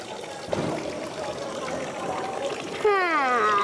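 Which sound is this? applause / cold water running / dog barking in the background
cold water running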